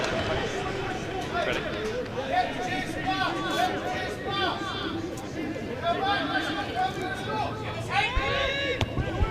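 Spectators chatter in the main stand at an Ayr RFC versus Currie Chieftains men's premiership rugby match in Scotland, a continuous babble of many voices with scattered louder calls and shouts rising and falling throughout.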